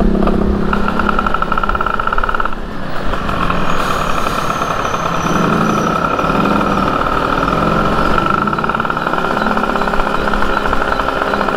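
Heavy trucks rumble past on a busy Manila road, a continuous loud engine drone with traffic noise and no gaps, heard alongside a modified Mio 4V scooter and a 250cc two-stroke motorcycle.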